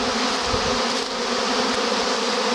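A swarming colony of honey bees roars all around, a dense, loud, steady buzz right up close with no voices.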